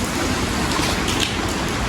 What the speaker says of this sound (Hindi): धूप भी निकल गई और बारिश भी हो गई दोबारा से शुरू।